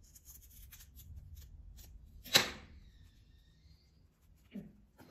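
Scissors cutting a paper tulip block: one crisp, close snip stands out against near silence, followed a couple of seconds later by a soft paper rustle.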